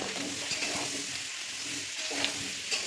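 Food cooks in a pan with a steady close sizzle, joined by a few stirring scrapes and clicks spaced irregularly across the stretch.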